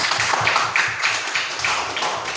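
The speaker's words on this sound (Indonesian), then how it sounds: "Tepuk tangan untuk Salsa" Classroom applause for a pupil, a steady run of quick, close hand claps from a group of students going on throughout, with no talk over it.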